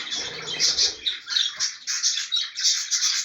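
A young pet budgerigar-type bird with blue breast, a female chick, gives rapid high chirps in short bursts while being held, close and fairly loud with faint handling rustle early on.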